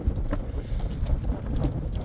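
Strong wind blows outdoors on Tenerife, buffeting the microphone in a continuous rough, low roar with gusty swells.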